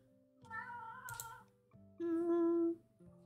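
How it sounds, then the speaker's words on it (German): A tomcat's meowing in a horse-riding video game, heard as two drawn-out tonal calls, the second louder and steadier, fairly close and clear with no talk over them. "Hört ihr den Kater?"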